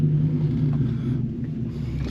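A 2006 Dodge Ram SRT10 Viper truck idles low in reverse, a steady deep engine rumble heard from inside the cab, loud and unbroken with no talking.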